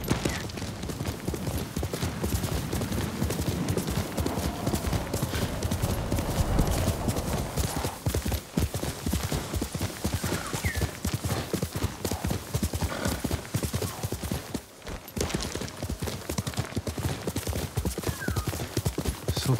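Hooves of a horse galloping in the samurai game Ghost of Tsushima, a fast, steady clip-clop that runs close and loud throughout, with an occasional whinny rising over the beat.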